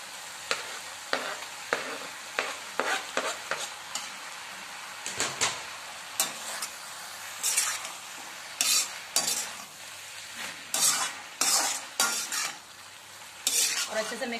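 Paneer stir-fries in a pan for noodles, with a quiet sizzle under frequent sharp scraping and clattering strokes of a utensil against the pan in irregular bursts, near and without speech.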